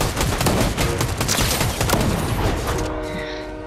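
Shotgun blasts in a video game firefight come as loud, dense back-to-back shots over about three seconds, then tail off into a quieter ringing stretch at the end.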